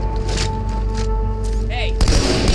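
Grenade blast and gunfire in the Halo 2 video game, a loud burst of impacts and booms over steady game music and ambience, with a heavier crash near the end.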